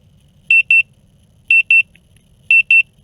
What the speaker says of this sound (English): Couple of beeps continuous.